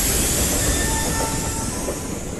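A train rumbling past at close range, with a loud continuous roar of wheels on rails, faint squeals and a clickety-clack rhythm running through the whole stretch, and no voices.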